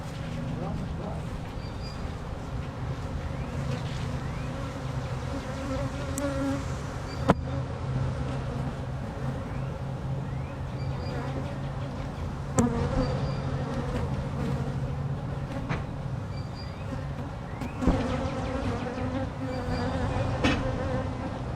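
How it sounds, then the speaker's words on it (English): Honey bees buzz densely around an opened hive, a constant close hum that continues throughout while people talk over it, with a few sharp knocks from hive equipment. "I see a lot of bees."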